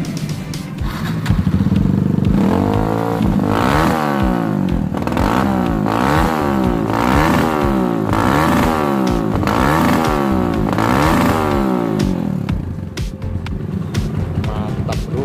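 A 2016 motorcycle seen at a motorbike dealer runs close by, its engine repeatedly revving up and easing back in a regular rising-and-falling pattern before settling to idle, with no talking.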